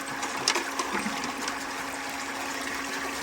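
Gold Fox trommel washing dug rocks with running water, a steady rushing, splashing wash with faint rattles, continuous and fairly close, no talk.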